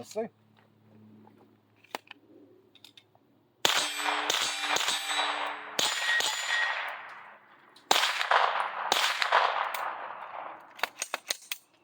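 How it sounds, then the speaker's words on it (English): Suppressed rifle shots fired through a full-size Dead Air Wolfman suppressor, each a sharp, loud report carrying a sonic bullet crack, with several shots spaced seconds apart and brief talk at the start. "the shot is very well reduced. You can definitely hear the speed of that bullet, though. You can hear that sonic crack."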